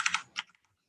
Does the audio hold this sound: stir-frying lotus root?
no